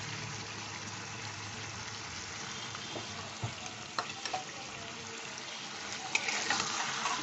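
Spice masala stirred into chicken in a pan for achari murgh, giving a soft, steady frying sizzle with occasional light scrapes and clinks of a spoon, fairly quiet, no speech.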